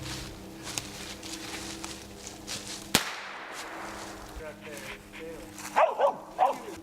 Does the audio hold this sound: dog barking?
yes